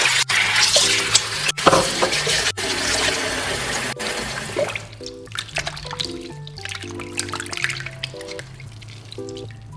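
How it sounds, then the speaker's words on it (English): Noodles rinsed by hand under running cold water, a steady stream with sloshing and dripping up close, while a light tonal melody plays throughout. "Rinse the noodles with hands under running water, which will wash off excess starch and foam on the surface of the noodles."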